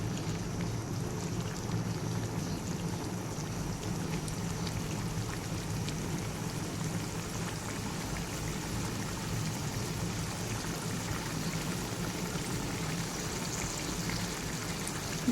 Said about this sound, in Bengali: গ্যাসের ফ্লেমটা পুরো হাই করে দিয়ে এটাকে আমি প্রথমে একটু ফুটিয়ে নিচ্ছি